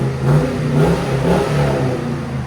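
A 2006 Hummer H2 with a 6.0L V8 and a Flowchaser muffler revs close by, its deep rumbling exhaust swelling and easing in a few throttle blips over a steady low drone.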